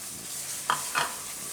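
Mango pulp and sugar stirred into ghee in a pan over a low flame, a soft frying sizzle broken by two distinct spoon scrapes, close and without speech.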